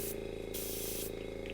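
A spray bottle filled with alcohol ink gives two quick hissing sprays in a row, close and crisp, over a steady low hum.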